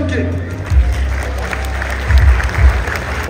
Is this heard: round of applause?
yes